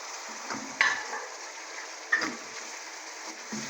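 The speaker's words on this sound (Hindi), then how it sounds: "अब मैं जो मैंने टमाटर लिए थे वो ऐड कर दूँगी" Tomatoes fry with onion masala in a pan, giving a soft continuous sizzle with a few scraping stirs and clinks at irregular intervals, fairly quiet and close.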